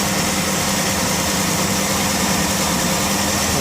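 Engine of a 1964 Dodge Daytona idling at about 1200 RPM, a steady unbroken rumble heard close and loud throughout with no talk.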